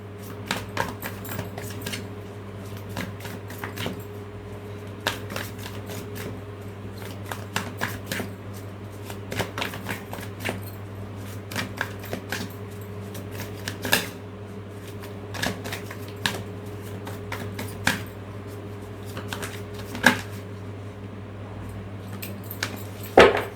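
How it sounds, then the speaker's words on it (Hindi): Tarot cards being shuffled, repeated crisp riffling and slapping bursts at irregular intervals over a quiet steady hum, close and fairly soft, with no speech. "अभी भी कार्ड्स स्लिप हो रहे हैं।"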